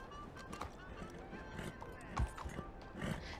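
Horse hooves clip-clopping in the video game Red Dead Redemption 2, a soft, uneven run of hoofbeats with a few sharper thuds, mixed under a person talking and other game sounds.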